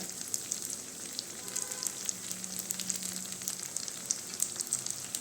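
Unniyappam fry in oil in an appam pan, giving a continuous close bubbling sizzle with fine crackling pops throughout and no talk.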